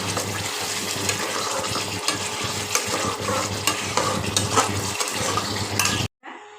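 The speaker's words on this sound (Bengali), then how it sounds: "এবার ডিমটাকে ছেড়ে দিলাম, কষিয়ে সামান্য জল দেবো" Eggs stirred and sautéed in a spiced gravy for Bengali egg korma give a steady sizzle with scraping spoon strokes throughout, close and fairly loud, ending abruptly in silence.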